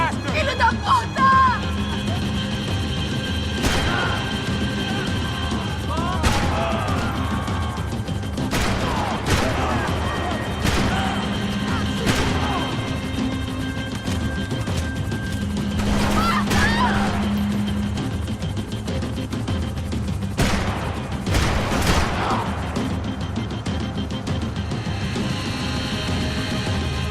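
Repeated gunshots ring out in a vehicle chase in Max Payne 3, scattered sharp cracks and short bursts over a constant engine rumble, with voices shouting amid the action.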